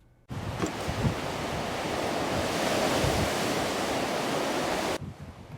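Heavy lake waves up to 15 feet crash and roar continuously in 50 mph wind gusts, a dense rushing wash of surf that fills the scene.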